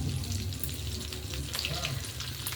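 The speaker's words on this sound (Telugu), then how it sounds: "ఇలా బాగా వేపాలి." Fish roe fries in a pan with a loud, continuous sizzle. Soft bubbling and crackling ride over it the whole time.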